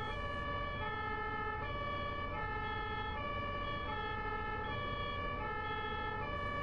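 Ambulance siren in Germany, the classic two-tone alternating wail repeating steadily in a regular high-low pattern, moderately distant over a low road rumble, with no talking.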